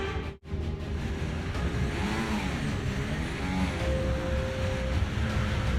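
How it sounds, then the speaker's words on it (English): A Formula 1 car engine in a racing video game at the China sprint race drones loudly and steadily, its pitch rising and falling in sweeping revs after a brief dropout at the start. "Engine loud."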